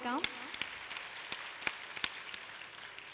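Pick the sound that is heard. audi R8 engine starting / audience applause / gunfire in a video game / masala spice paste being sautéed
audience applause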